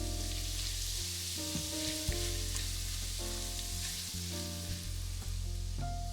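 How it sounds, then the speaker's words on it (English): Garlic, ginger and red hot pepper fry in oil in a pan over low heat, giving a steady, close sizzle with light crackles and a few soft stirring scrapes throughout. "Put oil in a frying pan, add garlic, ginger, and red hot pepper, and fry over low heat"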